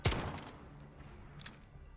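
Several quick gunshots burst out in a 3v3 shooter gunfight. They are loudest at the start, and a few softer cracks follow under a faint, quiet background.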